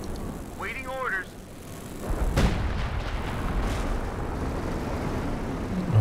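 Howitzer artillery fire in Company of Heroes 2 hits as a sudden heavy boom about midway, followed by a sustained rumbling wash of battle noise, with a brief voice heard near the start.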